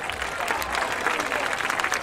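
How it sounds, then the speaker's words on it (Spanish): An audience at a Valentine's Day celebration in Villa Alemana applauds steadily and warmly, with many close hand claps and some voices mixed in. "Fuerte el aplauso para Albertina."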